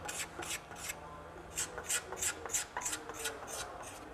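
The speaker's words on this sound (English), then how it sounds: "So we're just going to file that bud away" A file works down a node on a bamboo fly rod blank, a series of about a dozen short crisp rasping strokes in an even back-and-forth rhythm, close up with no talking.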